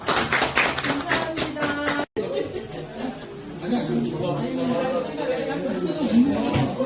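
A crowd chatters while scattered clapping breaks out, mixed with a few chuckles in a busy room at a care center opening ceremony.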